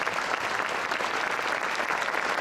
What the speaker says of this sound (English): let's give a big round of applause for our veterans.